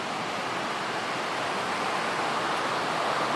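Heavy tropical rain pours down at a jungle school in the Philippines, a dense, loud, unbroken roar that slowly builds with no talk over it.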